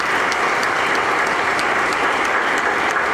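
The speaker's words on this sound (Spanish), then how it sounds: "brindémosle un aplauso también." A congregation at a Sunday Mass in q'eqchi' gives sustained applause, a dense even wash of clapping at steady volume without speech.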